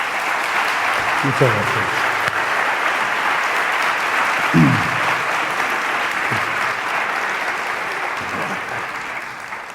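Audience applause welcomes a speaker to the stage at a talk on transpersonal and spiritual life, a dense, steady roar of clapping filling the whole stretch while someone briefly speaks over it.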